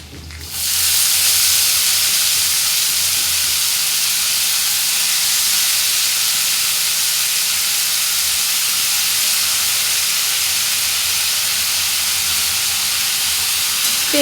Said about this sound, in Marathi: तेलात चांगल्या परतून घ्यायच्या आहेत शेंगा.